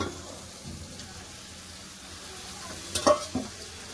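Potato and cauliflower sautéing in a pan with spices and ground cashew and poppy seed paste: a faint, steady low sizzle, then a couple of sharp spatula knocks near the end.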